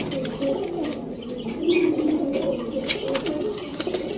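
Pigeons coo softly and repeatedly nearby. They are racing pigeons kept for sale, and the low calls come through a background murmur with a few faint chirps.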